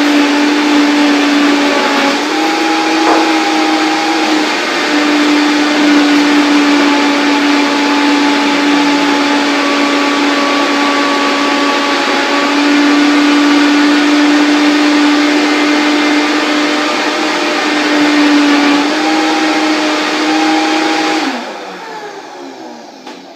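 A blender runs at full speed mixing an orange juice salad dressing, giving a loud, steady motor whir for about twenty seconds before it cuts off at the end, with no talk.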